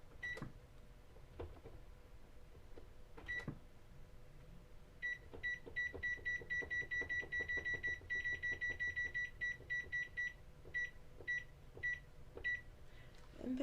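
A kitchen timer beeps in a home kitchen while bread dough is set to rise, starting with a few isolated beeps and then a rapid run of repeated high electronic beeps over faint background noise.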